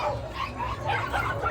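Saint Bernard dog at a crowded livestock fair, giving short barks and whimpering yips over a steady din of the surrounding crowd.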